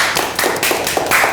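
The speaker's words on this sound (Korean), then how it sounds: "박수." A short burst of audience clapping at a Korean talk event: a few loose, close hand claps in an uneven rhythm, fairly loud, with no crowd roar behind them.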